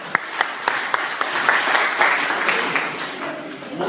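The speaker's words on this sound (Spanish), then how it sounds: "Un aplauso para ellos" Audience applause at a Spanish-language sermon, a dense steady clapping that swells for nearly four seconds with a few sharp individual claps standing out near the start, filling the room without any talking over it.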